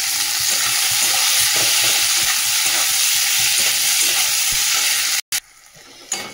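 Whole garam masala and two bay leaves sizzle loudly in hot oil, a dense steady crackle that cuts off abruptly near the end.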